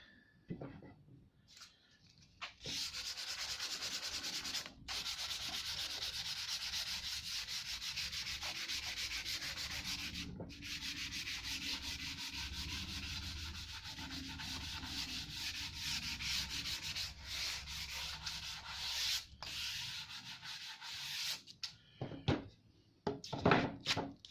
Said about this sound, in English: And I might sand that back a bit better.